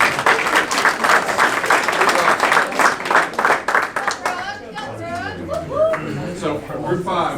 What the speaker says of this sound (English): clap for group 4, please